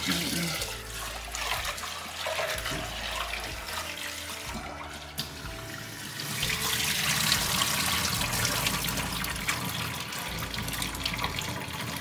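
Lentils are rinsed several times under running water in a sink. Steady, loud tap water gushes and splashes close by without a break.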